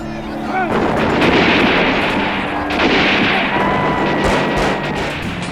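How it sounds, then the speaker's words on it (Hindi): British soldiers open fire on a crowd, a dense continuous barrage of gunfire and booming blasts, loud and sustained throughout with a crowd-like roar underneath. "तभी अचानक ब्रिटिश फौजियों ने गोलीबारी शुरू कर दी।"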